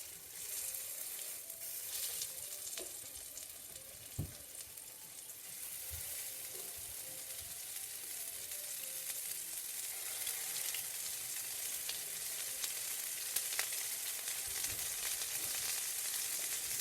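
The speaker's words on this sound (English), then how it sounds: "What you're looking for is that immediate sizzle once it hits the oil." Slider patties hitting hot oil in a pan give off a steady, loud sizzle that holds throughout, with a sharp clatter near the start and faint kitchen sounds beneath, no talking.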